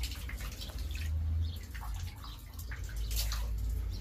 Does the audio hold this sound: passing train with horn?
no